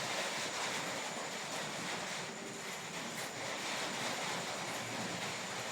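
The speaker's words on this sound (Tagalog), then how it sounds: "ang lakas na naman ng ulan" Heavy rain pours down in a dense, steady hiss that stays constant throughout, with no voices.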